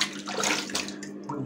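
Water runs and splashes at a sink while someone washes up after shaving, a close, brief, uneven spatter with no talk.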